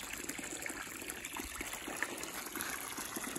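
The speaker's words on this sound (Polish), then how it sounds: "Podłączyłem pod niego taką zwykłą pompę." An ordinary pump pushes pond water through an old sand-filled pool filter at a garden bathing pond, giving a faint, continuous gushing and trickling flow with no voices.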